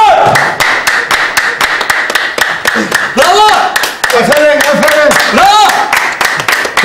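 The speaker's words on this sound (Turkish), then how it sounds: "Sizin gibi bir duayenden böyle alkış almak gerçekten insanın bir organını şişiriyor yani." A studio audience claps through a Turkish comedy show, the applause running in bursts beneath steady talking from the stage.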